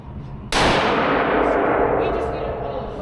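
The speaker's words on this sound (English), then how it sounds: "We'll let him fire this shot," A single loud shot from a CZ 600 Alpha rifle in .308 at an outdoor range, a sharp sudden crack followed by a long decaying rumble, preceded by quiet background noise.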